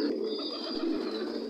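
Pigeons cooing steadily in a pigeon farm, several birds overlapping in a close, continuous murmur of soft throaty coos with no speech.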